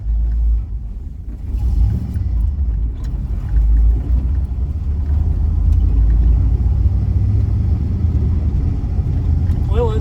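An LS-swapped car with a 6-speed transmission pulls away in second gear, its engine giving a deep, steady low rumble heard from inside, loud and continuous with a slight dip early on.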